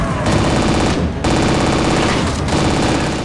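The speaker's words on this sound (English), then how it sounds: "You want me to turn and shoot? I'll turn and shoot." Rapid machine-gun fire from a Warhammer 40k Freeblade video game rattles in dense, continuous bursts, loud and close, with two brief pauses between the volleys.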